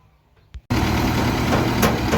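A Niva SK-5 combine harvester engine starts abruptly after a brief quiet moment with a small knock, then settles into a loud, steady, rumbling idle close by that continues to the end.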